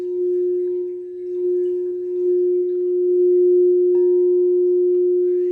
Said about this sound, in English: having an array of these bowls, and she's playing all of them, and this wonderful sound is coming from them